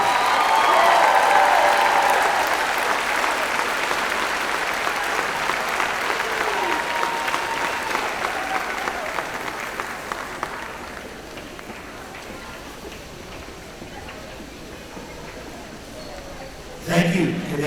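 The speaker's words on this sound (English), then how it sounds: "Please give a round of applause to Mr. Sean Connors, Mr. Cole Connors, and Mr. Jackson Connors." A school convocation crowd applauds loudly for three honorees, the clapping strongest at first and then thinning gradually to a softer patter, with a brief burst near the end.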